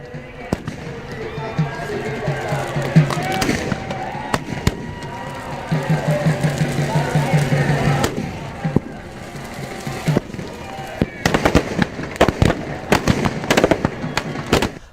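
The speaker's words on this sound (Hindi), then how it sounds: "रावण दहन में शानदार आतिशबाजी भी हुई" Fireworks crack and pop in loud bursts, some in rapid volleys, over a crowd's murmur and talking voices at a Dussehra Ravan Dahan celebration in a stadium in Harda, India.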